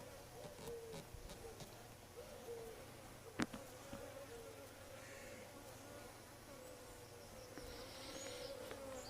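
Honeybees drone in an open hive, a quiet, steady buzz with some louder passes close by and a single sharp knock partway through. No one talks.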